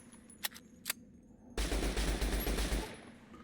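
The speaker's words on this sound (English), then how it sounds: "the runaway gun has taken over my brain and will not allow me to stop shooting" A couple of isolated sharp clicks, then a loud sustained burst of rapid automatic gunfire from a runaway gun in Fallout New Vegas, hammering nonstop for over a second before cutting off.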